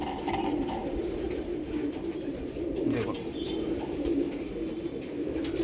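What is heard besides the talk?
Andhra Tenali bloodline pigeons cooing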